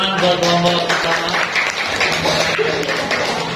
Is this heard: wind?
no